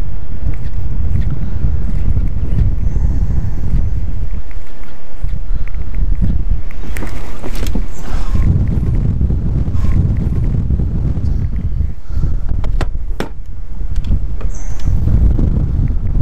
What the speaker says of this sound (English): Still brutally windy out here. There's some mean gusts